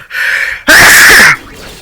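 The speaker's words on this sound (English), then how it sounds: "That was a really loud sneeze." A single loud, close sneeze bursts out abruptly, preceded by a brief sharp intake of breath, with no talking over it.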